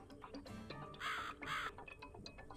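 A bird caws twice in a video game, two drawn-out calls over a busy background of game ambience and clicking.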